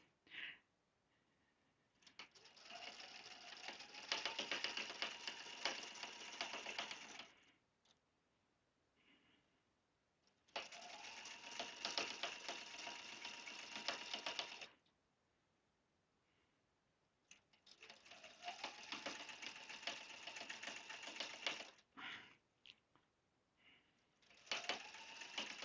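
A sewing machine stitches a quilt seam on a log cabin table runner in three sustained bursts of rapid mechanical whirring, separated by pauses with quiet clicks.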